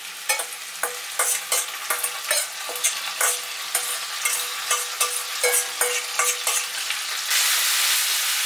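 Pork dropped into hot oil with garlic in a shallow pot for Trini-style geera pork, a loud close sizzle with a rapid series of spoon clanks and stirring scrapes, ending in a steady hiss.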